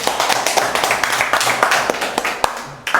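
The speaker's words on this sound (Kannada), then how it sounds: "ಚಪಾಳಿ ಹೊಡೀರಿಪ್ಪ ಎಲ್ಲರೂ" Schoolchildren clap their hands together on command in a classroom, a quick run of sharp, fairly loud claps that thins toward the end, with a voice faintly under it.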